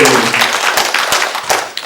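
An audience applauds at a panel discussion about Tanjung Priok for Ocean Week. A short, close burst of clapping follows a brief voice at the start.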